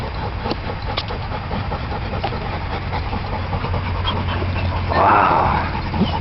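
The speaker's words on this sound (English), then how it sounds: "I think the doggy wants some toes too." A pet dog whimpers and pants softly in a home, brief high whines rising near the end over a steady low background hum.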